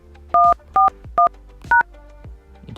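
Phone keypad tones dial a USSD code, four crisp, loud two-pitch beeps spaced out in an uneven rhythm over a quiet background.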